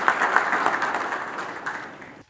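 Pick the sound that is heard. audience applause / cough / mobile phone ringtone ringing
audience applause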